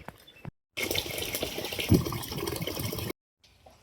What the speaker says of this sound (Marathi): आता कपडे धुवून घेते.